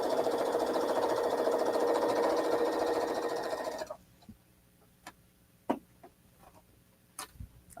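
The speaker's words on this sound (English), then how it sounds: "And I can just continue with the chain sewing." A sewing machine chain sewing fabric squares, running in a steady, close mechanical hum for about four seconds before stopping, followed by scattered light clicks and handling taps.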